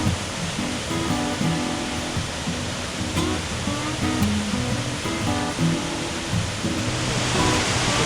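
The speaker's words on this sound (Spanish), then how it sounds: "Ahora vamos a observar la caída de la quinta cascada desde este punto." The fifth waterfall of Las 7 Cascadas near Villa de Leyva, a steady broadband rush of falling water heard from a viewpoint, constant and even throughout, with faint birdsong above it.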